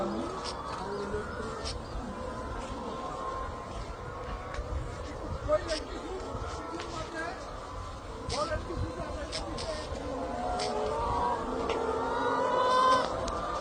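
Many laying hens on a large layer poultry farm cluck and chirp in a busy, steady background while people talk over them at close range.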